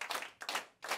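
Hand clapping at a free live concert, three quick bursts of claps close together in a short stretch, faint and with no one talking.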